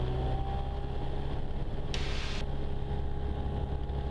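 Light aircraft piston engine held at a steady 2000 rpm run-up for a magneto check, a continuous close droning hum with a brief hiss burst midway, no talking.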